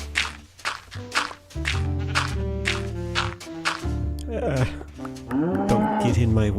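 A cow in a desert island video game moos several times in long, deep, drawn-out calls close by, with footsteps and some game noise between them.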